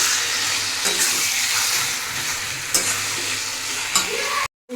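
Large chicken pieces stirred in a hot frying pan, with a steady loud sizzle throughout, punctuated by a few scraping stirs close by. The sound cuts off abruptly just before the end.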